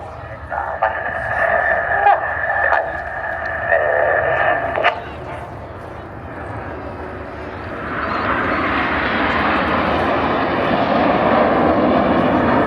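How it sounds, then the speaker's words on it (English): Red Arrows jets flying at the Blackpool airshow, a broad rising roar of jet engine noise that builds and holds steady, with commentary heard over it early on. "the aircraft was flying with the air brake out"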